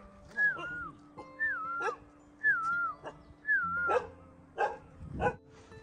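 A dog in the mountains whimpers in a series of about six high, wavering whines, spaced roughly a second apart and fairly close, over a faint steady background hum.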